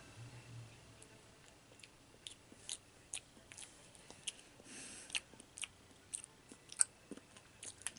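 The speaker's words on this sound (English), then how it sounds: "I'm just gonna bite out the yogurt" Small crisp bites into yogurt-dipped Skittles candy, a scattered series of faint, sharp clicks and crunches close to the mic in a quiet room.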